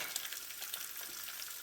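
Spiced egg pieces fry in oil in a pan, giving a steady, close crackling sizzle with no voices.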